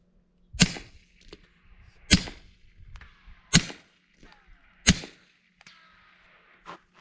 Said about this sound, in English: supersonic, and then 5 rounds of subsonic. Now the subsonic.